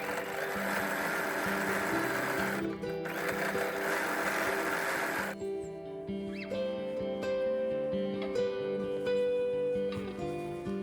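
A sewing machine runs zigzag stitches along the inside seam allowance of knit shorts, a steady motor buzz lasting about five seconds with one brief pause, over background music, then stopping.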